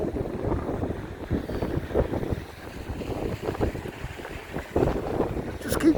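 Gusty wind buffets along the Blackpool seafront promenade, rumbling in uneven bursts that rise and fall, with occasional voices in the background.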